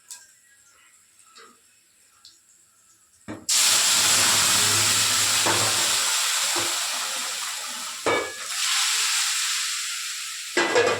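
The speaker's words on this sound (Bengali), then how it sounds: "এবার ডালটা সম্বাদ দিয়ে দেবে।" Raw moong dal is poured into a hot tempering pan in a home kitchen, bursting into a loud, sustained sizzle and hiss after a quiet start, then easing slightly as it keeps frying.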